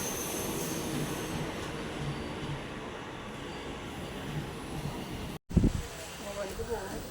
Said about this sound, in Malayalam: നമുക്കുള്ള ട്രെയിൻ എത്തിയിട്ടുണ്ട്, ഗുരുവായൂർ ട്രെയിൻ